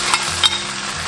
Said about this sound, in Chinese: 我们就把这个猪肝回锅